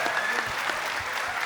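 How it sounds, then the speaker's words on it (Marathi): A live audience at a Marathi comedy and poetry show claps in a brief, dense burst of steady applause. "एकदा जोरदार टाळ्या पहिले आदित्यसाठी जोरदार टाळ्या."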